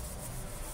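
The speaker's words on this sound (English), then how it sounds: "before I put on the French polish, I want to lightly sand it again" Oiled wood being lightly sanded by hand with a very fine 260-grit pad before French polishing, a soft, steady rubbing hiss close up and alone.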